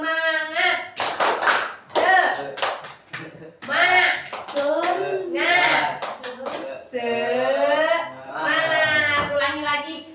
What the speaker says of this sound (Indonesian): Ya, kita tepuk semangat dulu.